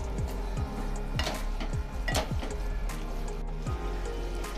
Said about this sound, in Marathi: ते इथे मी मॅशर घेतलेला आहे, तर त्याने मी 2 ते 3 मिनिटांसाठी असं छान मॅश करून घेते